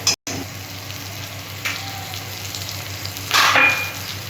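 Ginger paste with turmeric and chili powder frying in hot oil, a soft steady sizzle with a brief pause near the start and a sharper burst of spitting and crackling late on, no voices.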